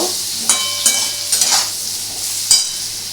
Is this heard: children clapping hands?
no